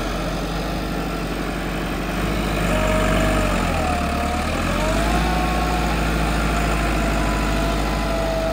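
A tractor engine in first gear pulls a new spring-less plough with little strain, giving a loud, steady drone whose pitch dips briefly and rises again midway.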